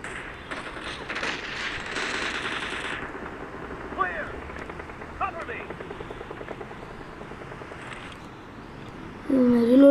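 Rapid automatic gunfire in a shooter video game, bursts of crackling shots over a steady mechanical whir, mid-level and close, with a brief louder tonal effect at the end and a voice talking over the action.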